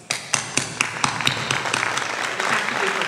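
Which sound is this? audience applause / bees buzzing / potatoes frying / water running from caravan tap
audience applause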